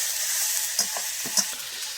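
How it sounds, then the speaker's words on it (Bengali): Onion and tomatoes fry in a pan after the fish, giving a continuous close sizzling hiss broken by a few light clicks of stirring. "এখন পেঁয়াজটা ভাজা দিচ্ছি। এবারে টমেটোগুলো দিয়ে দিলাম"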